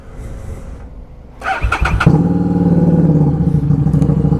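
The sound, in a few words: Harley-Davidson XG750 Street motorcycle revving, baffles removed, loud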